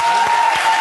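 Loud studio audience applause on a German comedy show, a dense burst of clapping close and full, with a steady tone running through it and a faint voice underneath.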